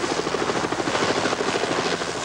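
A care flight medical helicopter flies over a hospital, its rotor chop pulsing steadily and loudly through the whole stretch without a break.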